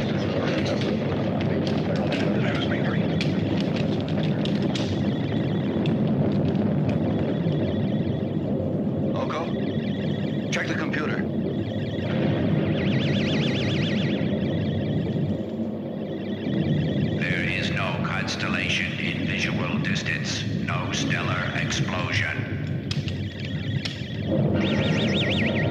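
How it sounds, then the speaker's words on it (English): A stellar explosion in the 1977 sci-fi film War of the Planets, a loud sustained rumbling roar with surging bursts and crackling swells that runs continuously for the whole stretch. "Mila, check the distance of the stellar explosion"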